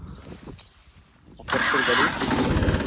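A quiet stretch with faint voices, then a Kubota tractor engine abruptly cranks and catches around midway, settling into a loud rough running rumble.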